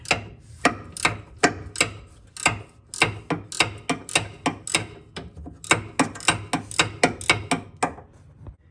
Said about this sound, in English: all I'm doing is taking a wrench to it